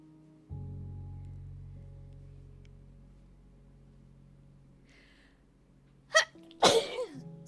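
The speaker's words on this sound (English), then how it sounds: "And I gotta sneeze." One person sneezes close by, a sharp double burst near the end, after a quiet low hum.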